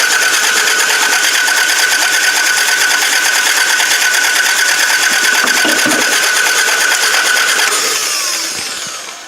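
A Toyota Camry demolition derby car with a broken timing belt cranks without starting after a shot of starting fluid. The starter whirs loudly and rapidly for about eight seconds, then winds down.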